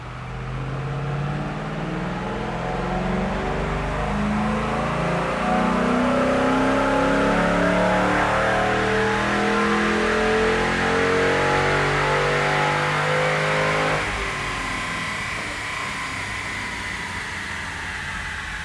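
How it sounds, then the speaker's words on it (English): Ford Mustang 4.6 GT V8 with a pulley kit roars on a dynamometer, pitch climbing steadily through a loud sustained pull for about fourteen seconds before the throttle closes and the engine winds down, close and without talk. "Dyno test number 3."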